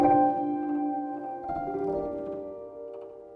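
Sustained piano chords pitched up an octave ring out in a beat production, with two chord changes that decay slowly and sound thin and bright.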